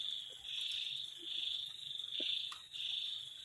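Frogs in a frog-rearing pond keep up a steady, high, trilling chorus that pulses gently in loudness throughout, with no voices over it.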